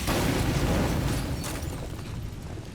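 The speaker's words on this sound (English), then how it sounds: "the explosion really didn't do much damage to me" A heavy explosion in the zombie survival game State of Decay 2 erupts as a dense, roaring boom that fills the sound and then slowly rumbles away over a few seconds.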